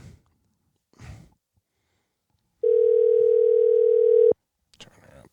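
A steady telephone dial tone hums for under two seconds on a call placed to a sister, loud and alone, with faint breathing and rustling before it and a brief noise after.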